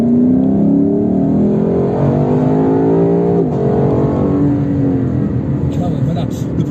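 Lexus LC 500 V8 engine revving under throttle, a loud close rumble that rises and falls in pitch through a single blip, with someone talking over it throughout.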